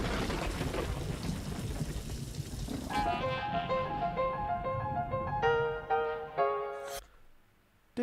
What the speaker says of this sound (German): Das ist einfach Wind und irgendwann fängt es so an zu donnern ein bisschen und zu regnen.